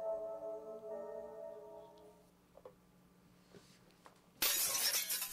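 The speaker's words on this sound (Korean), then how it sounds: "접시 와장창." In the horror video game LUNA, a plate smashes suddenly after a quiet stretch, a loud, bright crash of shattering ceramic that cuts off a fading tone and a few faint ticks.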